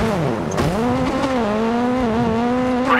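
A Hyundai i20 Coupe WRC rally car in a racing game brakes hard, its engine note dropping and then holding a steady drone, with a brief screech of tires near the end.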